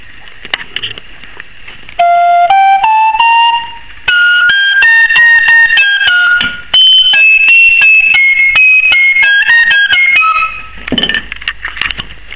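A Thai wooden khlui flute plays a bright, close melody of clear sustained notes climbing and stepping through its range, with breathy attacks and short gaps between phrases, played solo without talking.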